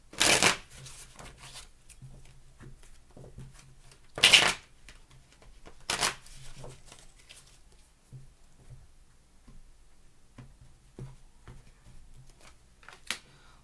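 Tarot cards being shuffled in several quick, crisp riffle bursts, with soft handling taps between them, close up and alone.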